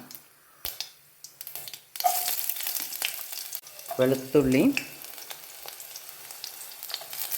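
Mustard seeds pop and shallots sizzle and crackle steadily as they are tossed into hot oil in a pan for a green pea curry, with a brief voice speaking over the frying.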